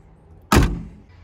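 The hood of a Ford Fiesta 1.0 sedan with a Zetec Rocam engine is opened, giving a single sharp, close clunk that fades over a fraction of a second in an otherwise quiet moment.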